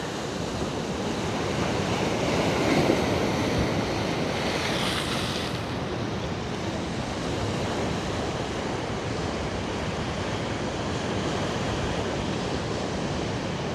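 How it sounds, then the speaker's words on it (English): Ocean waves roll in continuously against the rocky shore at Point Cartwright, Australia, a steady broad wash of surf mixed with gusty wind noise on the microphone, with no voices. "Look at this. The waves coming in."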